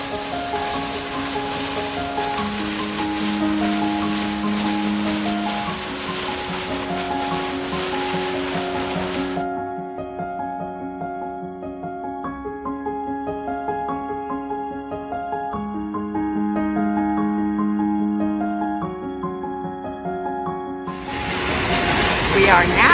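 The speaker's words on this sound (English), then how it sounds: "sure enough, the falls was flowing strong" A strong year-round waterfall at Twin Falls roars as a steady broadband rush, loud for the first nine seconds and returning at the end, with melodic music playing over it throughout.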